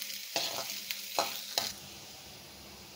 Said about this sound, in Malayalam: ഇഞ്ചിയും വെളുത്തുള്ളിയും പച്ചമുളകും കൂടിയിട്ടൊന്ന് വഴറ്റിയെടുക്കാം